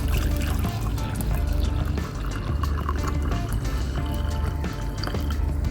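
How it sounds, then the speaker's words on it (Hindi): Water poured into a cup, a steady splashing trickle with small drips that continues for several seconds, close and clear with no talk. "उससे पहले ले लेते हैं एक कप पानी"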